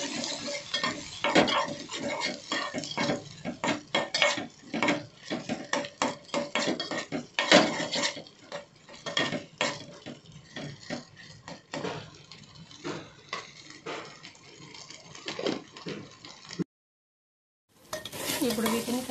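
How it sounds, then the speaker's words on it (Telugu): Brain fry being stirred in a pan with turmeric and ginger-garlic paste, a spoon scraping and clattering against the metal in quick repeated strokes over a faint sizzle, close and steady, then a brief break before stirring resumes. "కొంచెం పసుపు, కొంచెం అల్లం వెల్లుల్లి పేస్ట్ వేసుకొని కలిపేసుకోవాలి."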